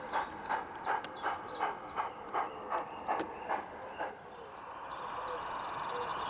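Model railway wagons being shunted on a layout, with a rhythmic series of light clicking clanks from the rolling stock for about four seconds, then quieter hissing running noise.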